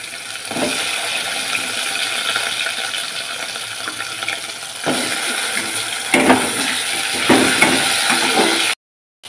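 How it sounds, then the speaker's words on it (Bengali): Cut taro dropped into hot oil over a black cumin and green chili tempering for a Bengali hilsa fish curry, a steady loud sizzle that surges as pieces go in, with stirring clatter near the end. "এবার আমি ওর মধ্যে দিয়ে দেবো কেটে রাখা গাটি কচু।"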